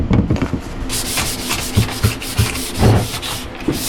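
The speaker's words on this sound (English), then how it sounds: "Sprayed it with a little bit of acetone. It's scraping right off." Old adhesive is scraped off a squarebody truck vent window after being sprayed with acetone, giving close, repeated rasping strokes in an uneven rhythm, loud and without talk.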